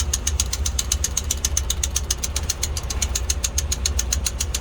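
A reefer unit's diesel engine is cranked after priming, giving a loud, fast, steady knocking rhythm with deep low rumble throughout.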